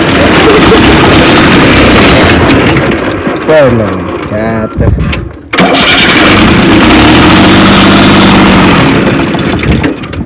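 Diesel tractor engine running loudly and steadily close by, with a short drop around the middle before it carries on, while people talk over it.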